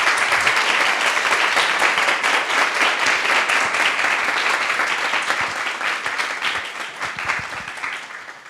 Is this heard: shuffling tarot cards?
no